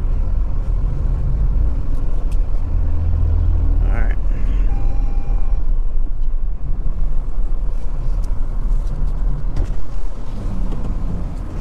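A vehicle engine rumbling steadily while backing onto a trailer, a loud low idle continuing throughout with some faint voices partly under it.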